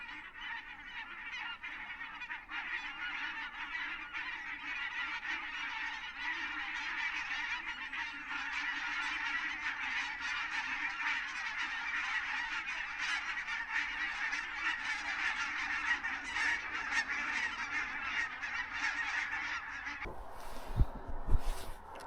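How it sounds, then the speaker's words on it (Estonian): A large flock of migrating birds, likely geese, honks continuously in a dense overlapping chorus that swells and carries on for about twenty seconds on a calm autumn fishing outing, then cuts to closer rustling and knocks. "Hakkab vist all tulema, et linnud hakkavad juba minema lendama."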